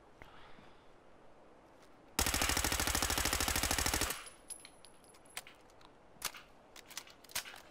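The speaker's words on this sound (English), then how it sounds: "let's have a look at our suppressed hardened automatic pipe rifle" Suppressed hardened automatic pipe rifle from Fallout 4 firing one sustained full-auto burst of about two seconds, a dense rapid stream of muffled shots, followed by a few scattered faint clicks and knocks.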